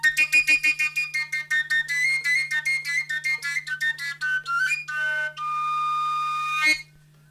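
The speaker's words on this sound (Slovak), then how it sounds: "Z tohto samorazu som urobil koncovku píšťalku bezdierkovú." Slovak koncovka, a fingerless shepherd's overtone whistle made from a samoraz, played alone and close with a run of short rhythmic tongued notes jumping between overtones, then longer held tones near the end.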